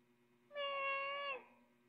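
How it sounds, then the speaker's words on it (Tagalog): A pet cat gives a single drawn-out meow lasting under a second, clear and close against a quiet room with a faint steady hum. "pakita mo yung pusa kay nanay"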